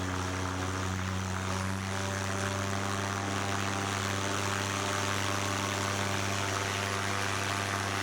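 Paramotor engine running at a steady, loud drone with strong tonal propeller hum throughout a low-wind launch, close and continuous with no pauses or talk.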